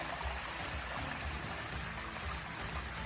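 Waste water from an RV black tank rushes steadily out through an opened dump valve, a continuous close gushing flow with no pauses.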